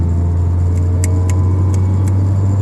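A 1997 Honda Civic DX with a D16Z6 engine drones loudly and steadily at low pitch as the clutch is slowly released, with faint rhythmic clicking ticks over the stumbling idle and no talk.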